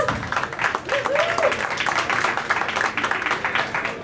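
Audience applause at a New York interview event for an honored guest, a steady wash of clapping running several seconds with a voice briefly audible over it.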